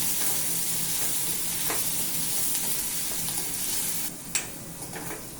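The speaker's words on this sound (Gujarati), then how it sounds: "વઘાર કરી દેવાનો." Hot oil tempering of cumin, red chili, tomato, onion and green chili for a mixed dal sizzles loudly and steadily, with a brief clatter of stirring near the end and no voices.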